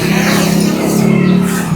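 A tricycle motor passes on the road with a steady, buzzing engine drone that holds close and fairly loud for the whole moment, with no talk over it.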